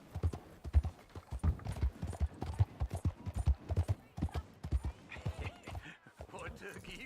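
Hooves of a horse in Red Dead Redemption 2 clip-clop in a quick, regular trotting rhythm close by, with someone speaking over the hoofbeats.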